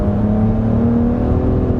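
A 2025 Nissan Rogue Platinum engine drones loudly under acceleration with its CVT holding high revs, a steady low hum and whir heard from inside the cabin with no talking.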